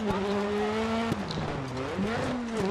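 A Volkswagen Polo rally car engine in the video game Dirt Rally roars loudly and steadily, its pitch rising and dipping as it revs, with brief tire noise in between.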